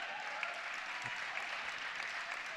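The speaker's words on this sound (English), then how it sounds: "Round of applause for the officiators." Faint crowd applause for the referees in a gym at a women's basketball championship game between Oldenwald and Chicago, a soft, steady wash of clapping with no talk over it.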